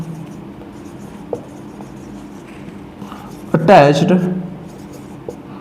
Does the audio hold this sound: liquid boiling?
no